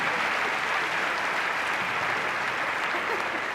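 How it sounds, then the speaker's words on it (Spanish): Steady, dense applause from a live debate audience after a segment on drug legalization, even and moderately loud for the whole stretch. "Otro aplauso por este segmento"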